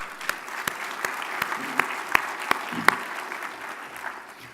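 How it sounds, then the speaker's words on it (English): An audience at a transportation summit's opening session gives steady applause. Sharp individual claps stand out over a dense wash of clapping that holds throughout and fades slightly near the end. "Give yourself a round of applause."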